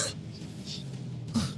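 A narrator imitates a character coughing, a short close throaty cough and clearing with a rough burst at the start and another near the end.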